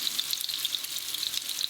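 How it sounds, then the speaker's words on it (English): Tofu sizzles steadily in a frying pan, a continuous crackling hiss with small popping spurts, fairly close and alone without any talk. "me personally now I'm frying it only from 2 sides, as you can see, because it's still getting nicely fried"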